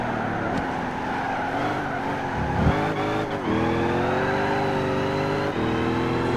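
A Buick Special muscle car in Gran Turismo 5 takes a corner, its engine droning steadily with pitch shifts as it brakes and accelerates through the bend, loud and close with no talking.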